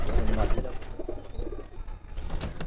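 Young flying pigeons of a Rampuri bloodline coo in low, throaty bursts close by, several birds overlapping amid faint background noise.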